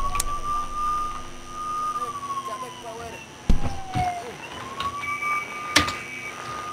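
A steady police car siren tone from the video game Happy Wheels holds, dips and rises again like a slow wail, with sharp thuds and crashes, including a truck crash, breaking in along the way.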